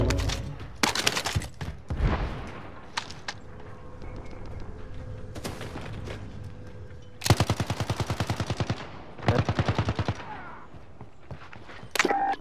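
Rapid automatic gunfire crackles in the Call of Duty Warzone video game, several bursts of fast repeated shots with quieter gaps and scattered single shots between.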